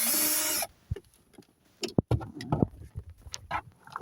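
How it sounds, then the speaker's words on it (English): A power screwdriver whirs in one short burst while screws come out of the underside of the dash on a BMW E60 530i, followed by scattered close clicks, taps and handling of loose parts. "So gonna do the underside of the dash, so that means taking these screws out."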